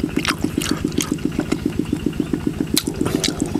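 A small water pump engine runs out in the fields, pumping water with a fast, even chugging pulse, joined by splashing and gurgling water and a few sharp knocks.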